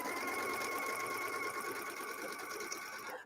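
A sewing machine runs continuously while backstitching through heavy specialty fabric, a steady close mechanical whirr with a fast rhythmic stitch pulse throughout.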